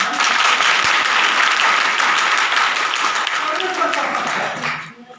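A congregation at a Hindi-language church service bursts into loud, dense applause, holding steady for several seconds before tapering off at the end.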